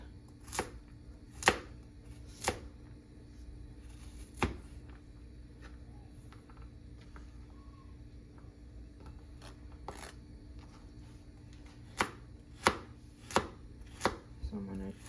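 Knife chopping vegetables on a cutting board as egg roll filling is prepped, sharp crisp knocks arriving singly and in quick clusters of two or three, spaced irregularly over a low steady room hum, close and fairly loud, no talking.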